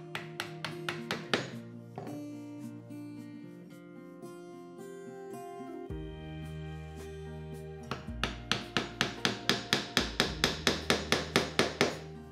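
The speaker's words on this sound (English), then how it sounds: "I drilled out as much waste as I could before finishing the mortises off with a chisel." Chisel and mallet work on mortises in wood blocks, with quick runs of sharp hammering taps at the start and end and a steadier tonal stretch between, close and clear without talk.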